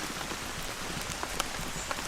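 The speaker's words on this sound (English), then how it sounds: "But perhaps this is the end of the rain." Steady rain patters on a reed-thatched Iron Age roundhouse roof, a dense, even hiss with occasional louder drips standing out, alone with no voices.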